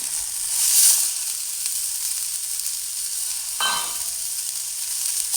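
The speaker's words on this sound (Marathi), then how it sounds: "त्याच कढईमध्ये आपण मटकीचे मोड थोडेसे भाजून घेणार आहोत" Steady dry sizzle and crackle of moth bean sprouts roasting without oil in a hot kadhai, with a brief scraping stir midway, no voices.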